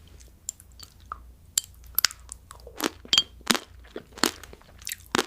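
Crunchy bites and chewing of ice, close and crisp, with a scatter of short crackling bursts spaced irregularly across a quiet background.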